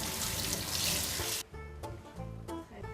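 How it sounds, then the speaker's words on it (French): Tap water runs loudly over strawberries in a colander, a bright hissing splash that cuts off abruptly partway through, leaving quieter kitchen sounds behind. "On lave les fraises dans un passoire."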